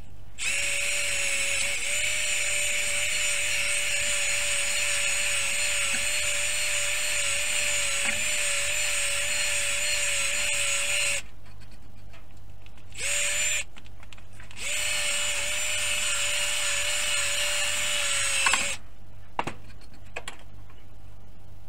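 An electric drill with a 6.5 mm bit bores a hole, a steady high motor whine running in long bursts with brief pauses and restarts, close and alone.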